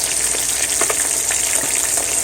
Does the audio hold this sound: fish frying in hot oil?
yes